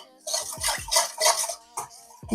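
A metal spoon clinks and scrapes against a bowl while stirring vinegar, sugar, soy sauce and salt, several quick close taps and swishes in an uneven rhythm.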